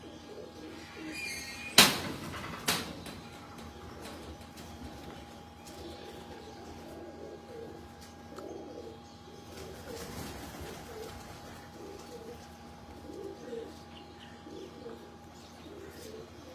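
Pigeons coo on a rooftop in Lahore, a soft repeating burble that runs steadily throughout, with a couple of sharp clicks near the start and no talking.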